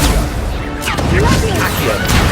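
Incendio fire spell cast in Hogwarts Legacy, a burst of loud whooshing, crackling blasts and booming impacts in quick succession amid dense combat noise.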